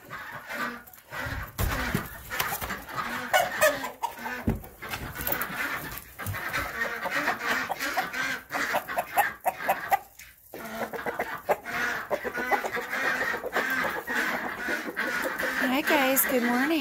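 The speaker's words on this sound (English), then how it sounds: "Chickens out for the day because it's a really nice day out." Chickens cluck and fuss continuously close by, with ducks and other fowl calling in a busy, noisy yard.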